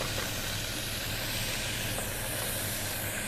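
Steady, loud sizzling hiss of pork fat frying in a hot pan, continuous and close throughout.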